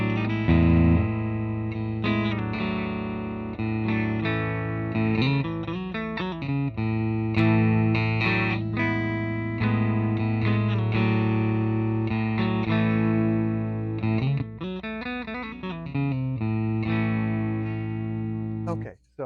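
Epiphone Les Paul Junior electric guitar with P90 pickup, tone knob on 10, played with a bright, clean tone, strummed chords and single notes ringing steadily, close and fairly loud, with no talking.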